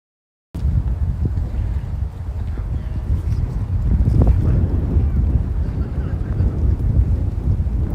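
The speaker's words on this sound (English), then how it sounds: "It's so windy." Strong wind buffets the microphone on a New York City street in January, a loud, continuous low rumble with gusty swells and no clear voices.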